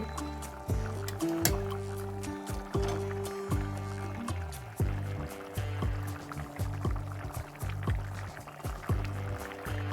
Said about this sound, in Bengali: এটাকে আরও পাঁচ মিনিট মতন ফোটাতে হবে